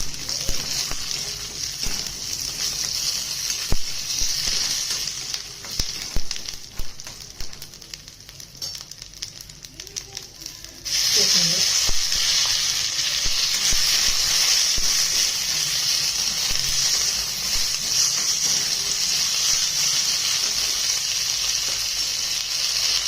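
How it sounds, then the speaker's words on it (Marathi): Curry leaves, cumin and garlic cloves sizzle loudly in hot oil for bitter gourd chutney, a dense crackling hiss that is uneven and quieter at first, then jumps to a strong, steady sizzle partway through, with no talk over it. "कढीपत्ता जिरे हे सगळं घालून घेऊ चांगलं"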